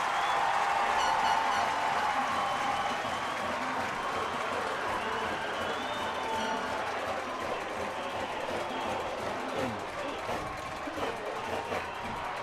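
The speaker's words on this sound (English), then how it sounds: "just listen to this crowd, man. They're loving it." A high school football stadium crowd cheering and applauding after a big defensive stop on fourth down, a broad sustained roar with clapping that slowly eases, sitting behind the commentary.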